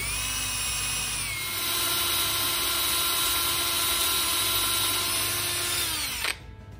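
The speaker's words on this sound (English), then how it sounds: "This is a 7/64 drill bit, and we're just gonna drill straight in, as straight as we can do." A power drill with a 7/64 bit boring into a steel T-post, giving a steady, loud, high whine that holds for about six seconds and then cuts off sharply as the drill stops.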